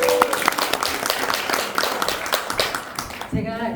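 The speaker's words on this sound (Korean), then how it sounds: "회장님께 안 들리더라도 박수 한번." Audience applause fills a book launch event for a local history research society in Daejeon, a steady spread of many hands clapping close by, with a brief tonal blip near the start before the clapping drops off at the end.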